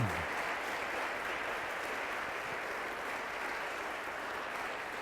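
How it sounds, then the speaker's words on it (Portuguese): A church congregation claps steadily and densely, a continuous even wash of applause that holds at the same level throughout with no voices. "Dá um aplauso ao Senhor."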